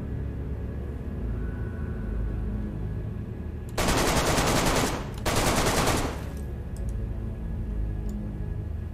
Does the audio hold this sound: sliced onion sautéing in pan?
no